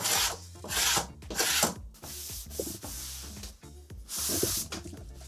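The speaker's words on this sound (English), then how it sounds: "all you've got to do is let's just scrape the paint off." A paint scraper rasps paint off a cutting mat in repeated close, loud scraping strokes with a rhythmic back-and-forth pattern.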